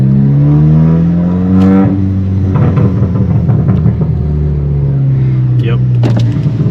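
Modified Audi A3 engine pulling hard with a droning rumble that rises and falls in pitch as it accelerates, loud and close, with some faint voice-like sounds mixed in.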